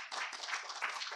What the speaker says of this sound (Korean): 다시 한번 오늘 수고해주신 연사자분들께 따뜻한 박수 부탁드립니다.